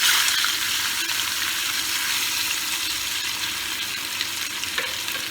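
Pieces of fish sizzling as they fry in oil in a pan, a loud, steady crackling hiss that holds evenly throughout with occasional sharper pops, no voices.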